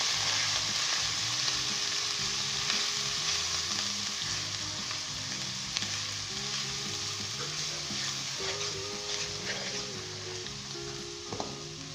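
Ground spices being stirred in a pan of hot oil over medium heat for Pindi-style chole, a steady close sizzle running throughout with soft scraping stir strokes scattered over it; no voices.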